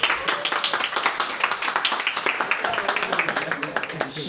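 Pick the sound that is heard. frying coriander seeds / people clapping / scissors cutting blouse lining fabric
people clapping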